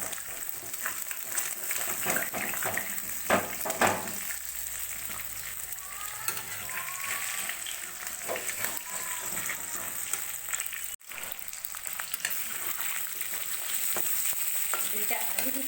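Food frying in a pan, a continuous hissing sizzle with occasional stirring scrapes, steady and close, with a brief dropout partway through and no talking.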